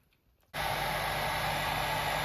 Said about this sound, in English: I'm now going to try and use a hairdryer to blow those in further